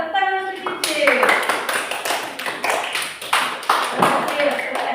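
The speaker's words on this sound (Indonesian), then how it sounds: "Tepuk tangan untuk Cici." A small group claps hands in quick, uneven applause lasting several seconds, fairly close, with a brief voice at the start.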